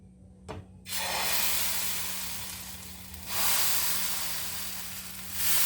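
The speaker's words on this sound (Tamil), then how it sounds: "கல் காஞ்சிருச்சு இப்போ நம்ம தோசை ஊற்றிடலாம்" Dosa batter hits a hot griddle with a sudden loud sizzle that hisses steadily and close by, swelling again as more batter spreads over the pan, with a low hum underneath.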